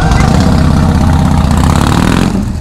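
A Harley-Davidson motorcycle engine runs steadily during a community Independence Day ride in Pune, a loud, continuous low rumble close by with no break across the whole stretch.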